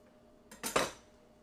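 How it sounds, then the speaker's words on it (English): A single quick knife cut through rolled-up dough into strips, a brief soft chop landing on a board, close and isolated in an otherwise quiet kitchen. "Just roll it up and then slice it"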